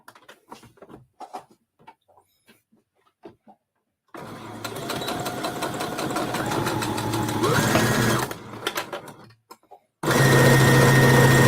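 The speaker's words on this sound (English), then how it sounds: "I'm just going to sew a straight stitch, a little back and forth, all the way across" A sewing machine runs a straight stitch with short back-and-forth passes across fabric, starting with a few soft clicks and taps, then a loud continuous mechanical whir for several seconds, a pause, and a fresh burst.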